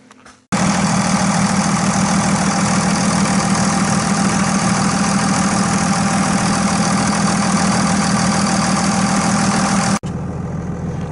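A 2001 Dodge Ram 2500 with a Cummins turbo diesel idles loudly and steadily after starting up, a constant close rumble with a whining hum that holds for about nine seconds before abruptly dropping to a quieter level.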